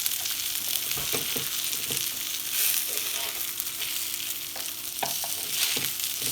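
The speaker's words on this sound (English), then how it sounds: "try to take the edge of the spatula and gently flip the fish" Semolina-coated fish fries in a pan with a steady, close sizzle, broken by scraping taps and clatter as a spatula turns the pieces; no voices.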